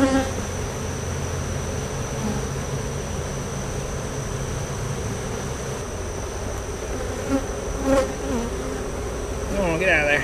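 Honeybees buzzing around an open hive during an inspection, a dense, constant drone with a few louder wingbeats passing close by, heard alone without voices.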